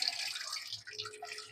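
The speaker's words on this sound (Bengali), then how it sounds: "আমি এখন ঝোলের পানি দিয়ে দিলাম" Water is poured into a pot of beef curry with pumpkin and potato, giving a steady, close splashing stream that lasts about a second and a half.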